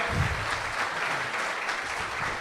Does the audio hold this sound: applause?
yes